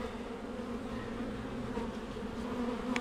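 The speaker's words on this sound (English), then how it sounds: "And I'm seeing bees scurry back and forth." Honey bees buzz steadily in a dense, continuous drone around an open hive during an inspection, close and even in loudness throughout, with no talking.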